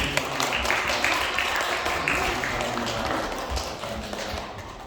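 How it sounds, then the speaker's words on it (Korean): A Korean church congregation claps during a Sunday worship service, a dense, close burst of hand claps that gradually softens toward the end. "다시 한번 박수를 주시기"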